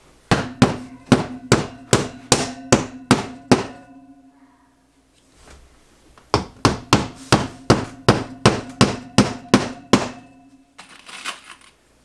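Ring-shank drywall nails are hammered into a wall in two bursts of about ten sharp, loud, evenly spaced blows each, separated by a short quiet pause, with ringing strikes close by.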